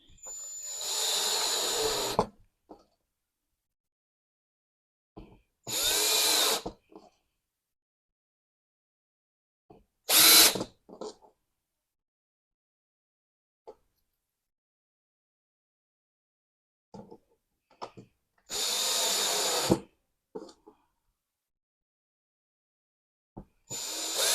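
Screws being driven in while a wall-mounted bathroom cabinet is assembled, five short bursts of a hissing, whirring power driver separated by silence, with faint handling clicks between them.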